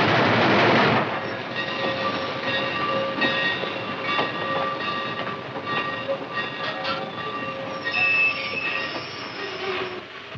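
A train rolls in to a station with loud squealing wheels and metallic screeching tones, rattling steadily as it moves along the track.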